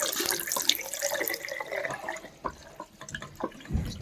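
Water gushing from a newly plumbed kitchen tap in an old Irish farmhouse, a loud, close, splashing stream into a sink that thins out near the end as the flow is shut off.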